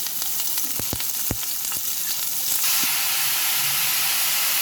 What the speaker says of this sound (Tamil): அடுப்புல pan வச்சு 2 டேபிள் ஸ்பூன் எண்ணெய் ஊத்திருக்கேன். இப்போ பாருங்க வெங்காயத்தெல்லாம் போடுறேன்.